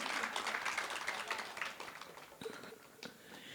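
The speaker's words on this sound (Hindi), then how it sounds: "अच्छा ताली बजाओ तो सारे बजाओ" Audience applause at a Hindi religious discourse, a crowd clapping steadily and fairly loudly for a few seconds, then thinning into scattered claps.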